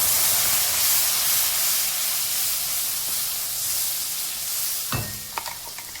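Cumin and tomato gravy sizzle hard in a hot frying pan, a loud steady hiss that eases slightly, then a clatter as the pan is stirred near the end.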